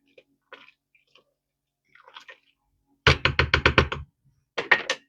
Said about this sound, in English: let me stir the chicken stock pot real fast